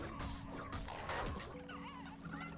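Chickens in the video game Fortnite Creative: several close, choppy clucks and squawks overlap for the whole moment. They sit over a steady game background hum, and no one speaks.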